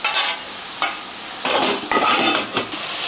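Sliced onions with turmeric fry in a pan while a spoon stirs them, soft sizzling broken by a few close scraping strokes against the metal, with no voices.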